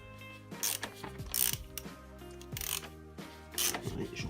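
Ratchet wrench clicking in short bursts while snugging down a new oil filter on a Volkswagen Polo 5 1.6 TDI during an oil change, close and fairly loud with metallic ticks and brief pauses.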